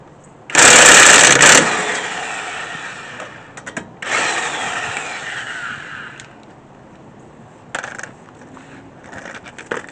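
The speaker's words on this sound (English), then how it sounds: "this Cobalt 1/2-inch drive impact, that's a bad little toy right there" Cobalt 1/2-inch drive impact wrench firing in loud close bursts: a long rattling hammer burst, a second shorter one, then brief trigger pulls near the end, with quiet pauses between.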